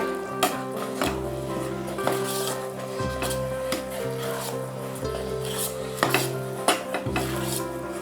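A spoon scrapes and rubs against the bottom of a pot of sambar rice in a steady stirring rhythm, with occasional louder knocks, close by.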